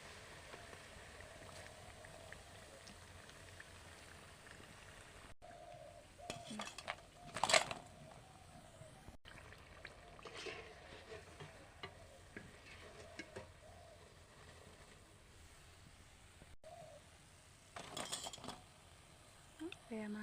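Malpua pitha batter frying in hot oil, a faint continuous sizzle broken by occasional stirring and clinks of a utensil against the pan.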